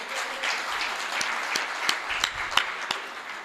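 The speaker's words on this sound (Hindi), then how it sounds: "ताली वाली बजा दो आप।" Applause from the audience at a live Hindi kavi sammelan poetry gathering, a sustained crowd clapping with a few sharper, closer claps standing out over the steady wash.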